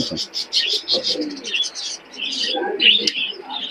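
Pigeons at a busy pigeon market coo and chirp continuously close by, with overlapping soft calls and occasional wing flutter filling the whole short stretch.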